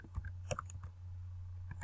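A few scattered key clicks from a computer keyboard, sparse and quiet, close by over a low steady hum.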